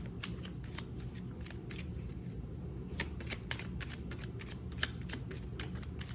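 A deck of cards is shuffled over and over, a long run of crisp riffling bursts and soft flicks at close range, with no talking.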